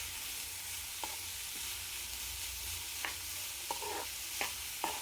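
Beetroot and chickpea curry sizzling in a pan, a steady soft frying hiss with a few light scraping stirs of a spoon at intervals.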